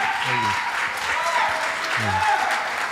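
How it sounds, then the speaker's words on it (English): A live audience claps steadily for a few seconds, a warm wash of applause with a voice briefly audible over it. "Let's give them both a big round of applause,"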